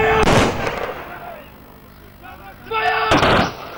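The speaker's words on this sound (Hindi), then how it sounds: "सेना के साथ ही बंदूकों से बहादुरी को सलामी दे रहे हैं" Rifle volleys ring out as a military gun salute at an army funeral in Garnala village, Ambala, Haryana: two loud, sharp bursts with a lull between them, each followed by rumbling echo, while voices murmur underneath.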